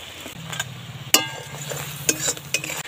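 Yogurt being whisked in a bowl for Bengali rui fish rezala, quick soft scraping strokes with a few sharper clinks of utensil against the bowl over a low background hum.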